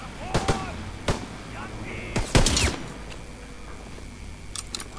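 Several sharp gunshots crack in short bursts with pauses between, loud and close, over a low background rumble, from the video game Call of Duty: WWII; no one speaks.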